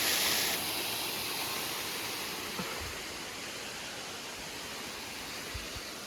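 A river flowing below a temple in rainy weather gives a steady, even rush of water, continuous and moderately loud throughout, with a few faint knocks and no voices.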